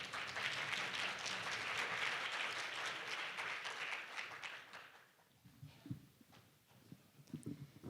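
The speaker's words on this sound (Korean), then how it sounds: "실장님을 박수로 맞이해 주시기 바랍니다." An audience at the opening ceremony of an Arctic partnership week event applauds to welcome a speaker, a dense wash of clapping that fades after about five seconds into scattered footsteps and faint room noise.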